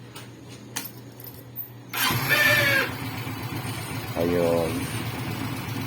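A smoky Suzuki engine cranks and catches, then settles into a rough idle with a brief rev partway through, while someone speaks briefly nearby.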